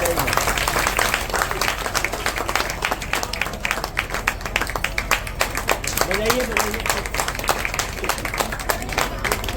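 An audience at a community gathering claps in welcome, a dense, steady patter of many hands that continues throughout at moderate volume while someone speaks over it.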